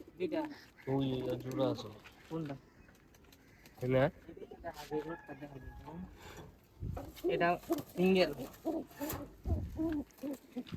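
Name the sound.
pigeons cooing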